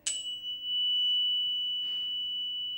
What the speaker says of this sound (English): if you listen to the tone of A, which in fact is the one that really balances it